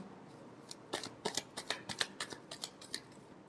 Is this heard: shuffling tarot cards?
yes